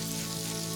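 Veal neck pieces sizzle in a hot pan, a brief, even burst of close frying hiss with a low hum beneath it.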